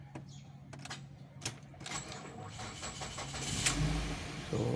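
A Ford Focus with a knocking drivetrain fault and low power is started close by, with faint clicks and a brief crank before the engine catches and rises to a low running hum.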